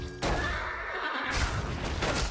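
A pack horse in the strategy game Warcraft 3 lets out a loud, sustained whinny as it is killed, heard alone and close.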